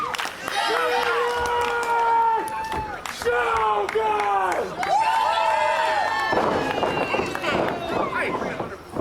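Crowd at a Tampa Bay Pro wrestling event, with loud, sustained cheering and shouting voices filling the hall, several rising yells standing out over the din.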